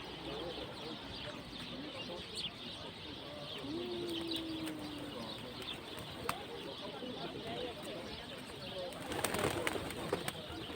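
A pigeon coos briefly and softly in Pigeon Valley, Cappadocia, amid a busy outdoor background of rustling and faint chirps, with a louder clattering burst near the end.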